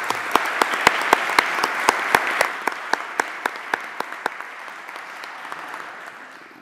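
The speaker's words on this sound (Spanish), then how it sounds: "Por lo tanto, pido un gran aplauso para él." Applause from a crowd at a public policy meeting, loud at first with sharp distinct claps, gradually thinning and fading toward the end.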